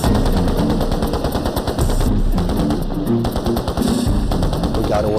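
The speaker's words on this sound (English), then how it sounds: "Every man opens up his weapon on full automatic." Automatic weapons fire as soldiers empty their rifles on full auto in a Vietnam mad minute, a dense, continuous rattle of overlapping bursts that stays loud throughout with no voices.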